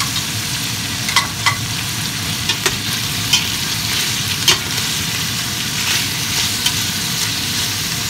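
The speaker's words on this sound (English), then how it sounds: "We're going to put our pepper and our onions in and saute them a little bit." Pepper and onions sauté in a hot pan for beef stew, a steady close sizzle with occasional soft stirring clicks.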